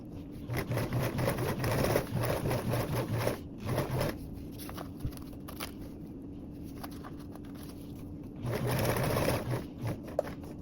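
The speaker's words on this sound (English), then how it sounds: "stitch around our box with a 1/8 seam allowance" A sewing machine runs steady bursts of stitching along a tote bag seam with an eighth-inch allowance, pausing briefly mid-run and then starting up again, close and clear with no talking.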